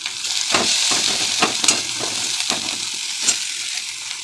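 Spices and turmeric sizzle loudly in a hot pan, a steady crackling fry broken by several sharp bursts as the mixture is stirred, with no talking.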